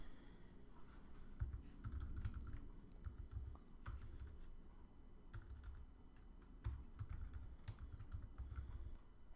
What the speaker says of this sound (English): So let's type in user input length